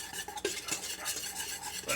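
A tiny whisk with its handle broken off beats a mixture in a bowl while making cookies and brownies, giving a steady, quick scraping and clinking stir that runs throughout, close and moderately loud, with no voices.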